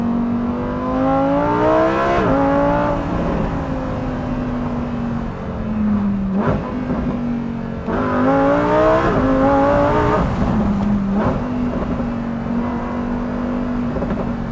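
A McLaren, Lamborghini or Porsche sports car engine revs hard on a race track through rising gears toward 8,000–9,000 RPM, each climb ending in a quick shift, loud and close with a sustained high-pitched roar.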